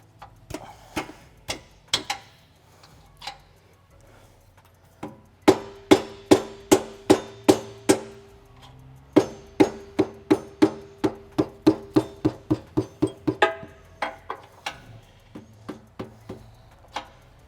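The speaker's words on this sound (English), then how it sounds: "I have to hit the bolt even a bit" A bolt is struck over and over with a hammer while a 4Runner rear bumper is fitted, sharp metallic blows, sparse at first and then in fast steady runs, close and loud with no talk.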